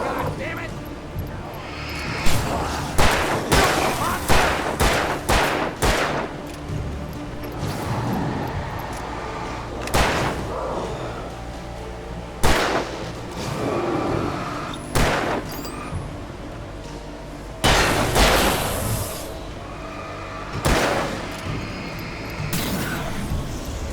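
Gunshots ring out in Alan Wake Remastered, a string of sharp, loud bangs arriving in irregular bursts with brief gaps between them, each cracking hard across the whole range before fading quickly.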